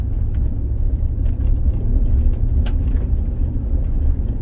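A 2003 GM truck drives through snow with a steady, heavy low rumble from the engine and tyres, a few faint knocks and crunches scattered over the drone.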